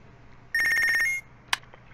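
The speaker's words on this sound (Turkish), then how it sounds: "Telefon çaldı." A telephone ringing in the game Punch Club, one short electronic trill of about half a second, clear and close, followed by a brief click.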